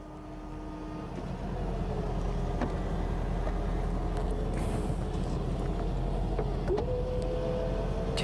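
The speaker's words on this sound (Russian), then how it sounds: "За сколько секунд мы сумеем закрыть эти крыши?" Electric convertible roofs on a Mercedes and a Jaguar XK close, a steady low motor whir and mechanical hum that builds and holds, with faint clicks of latching parts near the end.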